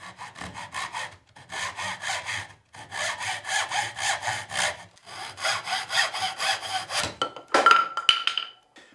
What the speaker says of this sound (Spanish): Vamos a cortar este, este cañuto por aquí